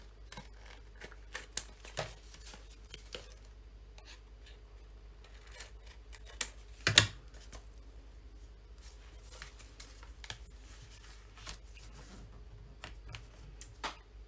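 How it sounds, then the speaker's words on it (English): Scissors snipping excess paper off a scrapbook card, quiet scattered cuts and paper rustles with one louder snip near the middle. "Then we can snip our excess off."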